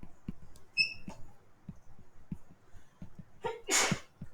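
A person sneezes once in a classroom, a sudden loud burst near the end following a sharp inhale, over a quiet background with faint ticking and a brief whistle-like squeak earlier.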